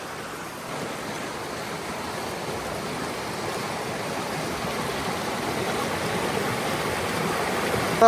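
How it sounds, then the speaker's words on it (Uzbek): A mountain stream near Bodoq lake rushes past close by, a steady, even wash of flowing water with no voices. "Soyi suv mana yonimizda."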